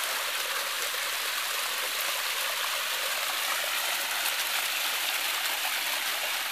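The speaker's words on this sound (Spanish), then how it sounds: "Aquí podemos ver el agua cayendo y bajando" Cold water falls and flows down a stream or small waterfall, making a steady broadband rushing roar that stays constant and fairly close with no voices.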